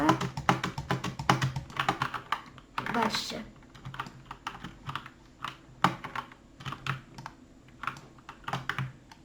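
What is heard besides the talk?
typing on a computer keyboard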